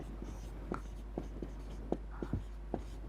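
Pen writing out an integration step for a line integral problem in a math lecture: quick scratchy strokes and taps in an uneven rhythm, close and faint over a steady low hum, with no talk.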